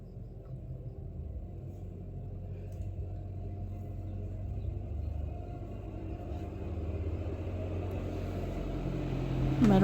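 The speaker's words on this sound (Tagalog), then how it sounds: "Meron sasakyan guys oh." A car passes in the distance, heard as a low rumble that slowly grows louder toward the end under outdoor background noise, with no talking.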